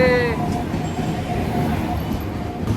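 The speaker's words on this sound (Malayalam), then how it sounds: "നമ്മുടെ ട്രെയിൻ വന്ന്" The Dibrugarh Vivek Express arrives at a station platform with a steady, loud rumble of rolling wagons, a brief high tonal squeal or horn at the very start, and continuous wheel noise throughout.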